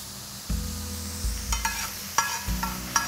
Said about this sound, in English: Let's fry this for a minute.